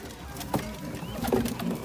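A pigeon chick coos softly in two short bursts from close by, set against a low background hum and with no talking.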